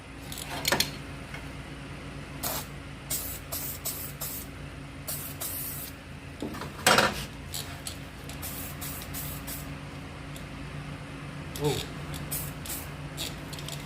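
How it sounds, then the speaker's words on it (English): Short, sharp hissing bursts from a spray can of copper weld-through primer, several quick blasts in an irregular rhythm, heard up close with quiet pauses between them, during car chassis rail and floor repair. "Then with a bit of spray of the copper weld."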